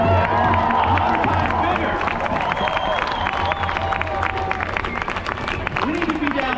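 A large protest crowd at the No Kings protest in Grand Rapids cheers, whoops and claps in a sustained roar, loud and close, with a voice over it and scattered shouts rising from the mass.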